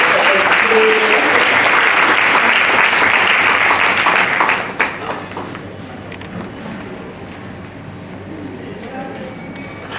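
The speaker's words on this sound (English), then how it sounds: "Ladies and gentlemen, a big round of applause for Manisha Kundaskar" An audience at an award ceremony applauds loudly and densely for about four and a half seconds, then the clapping cuts off abruptly into a quiet room with faint shuffling.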